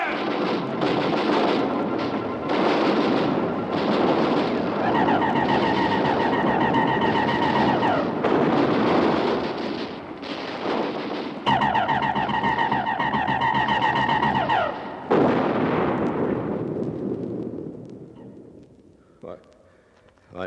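Heavy artillery batteries fire in a radio drama battle, a dense, continuous roar of booming blasts and rumbling under excited voices, with shrill whining tones cutting through mid-scene before the din fades away near the end.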